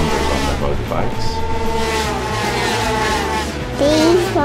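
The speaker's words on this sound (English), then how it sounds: "Oh, these motorbikes are racing" Motocross dirt bikes racing with numbered machines, engines droning loudly and continuously with tire-like squeals and revving pitch sweeps, a voice talking over the racket.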